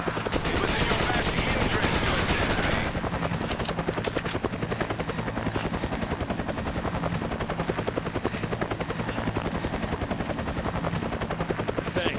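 Gunfire in the video game Resident Evil 5 during a Versus Team Slayers match, a rapid rhythmic volley of shots running continuously over a steady rumbling din, loud and close, with a louder noisy burst at the start.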